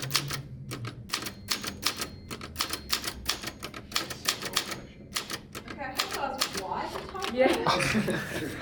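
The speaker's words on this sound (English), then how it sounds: "I actually tried to take notes with a typewriter." Manual typewriter used for taking notes in a college lecture, keys clacking in rapid irregular bursts with brief pauses, close up, with some murmured voices and laughter near the end.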